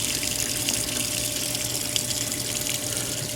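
Two washing machines filling with warm water, a steady unbroken rush of water pouring in through open valves, fairly close and constant throughout with no voices.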